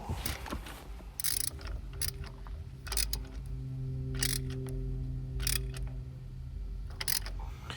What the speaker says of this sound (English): always go behind yourself with a ratchet and make sure it's all the way tight